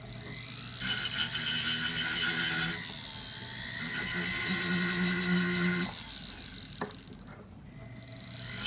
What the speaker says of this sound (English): I'm just going to gently go over where I soldered both on the front and the back to make it all smooth again.